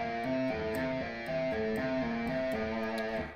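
Guitar legato pinky exercise: a four-note loop begun on the second note, played as smooth, connected single notes that repeat in an even rhythm, clear and close with no talking.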